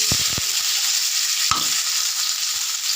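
Onions frying in oil in a wok for a dried-fish bhuna, a continuous bright sizzle with a few sharp scraping stirs near the start and another midway, close and without talk.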